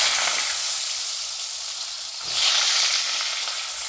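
Potatoes sizzling as they fry in hot mustard oil with whole cumin seeds, a steady bright crackle that swells louder near the end as they are stirred.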